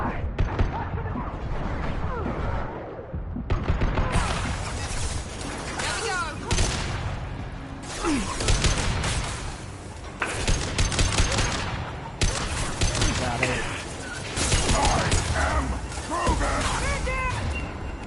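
Gunshots in a Mass Effect 2 firefight across a conveyor line, dense rapid volleys and sharp bursts with booms and crashes, nearly continuous after a short lull near the start, with voices talking underneath.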